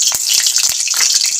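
Nigella seeds and a green chilli spluttering in a little hot oil, a continuous bright sizzle broken by several sharp pops and crackles, close and loud with no talking.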